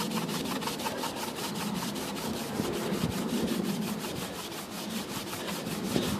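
An Eico Model 1140 R-C combination box front panel being hand polished to remove corrosion gives a continuous close scrubbing rasp of rapid, regular back-and-forth strokes with no pauses or speech.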